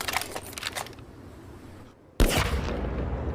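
A sharp sudden bang cuts in after a quiet moment, followed by a loud rumbling burst, like close gunfire.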